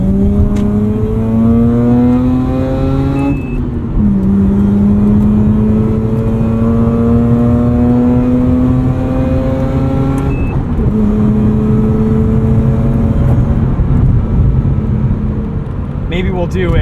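A 2009 Mazda RX-8's rotary engine pulls hard through the gears while driving, its rising whine climbing steadily, dipping briefly at each shift and climbing again, loud and close from inside the cabin with steady road noise beneath.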